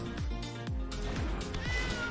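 A cat card in the digital card game MTG Arena gives a series of about four short, descending meows at a steady pace, each clear and fairly loud over a soft game backdrop.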